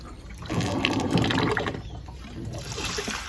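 Glutinous sticky rice is rubbed and rinsed by hand in a basin of water, giving a steady close swishing and sloshing with a soft rushing wash that runs the whole time.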